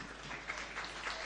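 Audience applause at a religious darbar gathering in Pandokhar, Madhya Pradesh, a steady continuous wash of many hands clapping together at moderate distance, without pauses, throughout.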